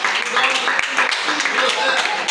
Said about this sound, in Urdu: زوردار ایسے یسوع کے لیے تالی بجائیے گا